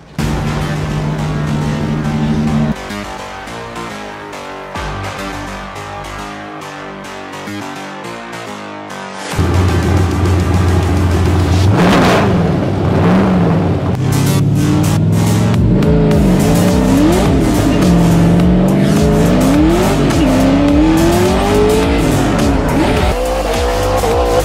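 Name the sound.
Mustang drift cars racing at Formula Drift Texas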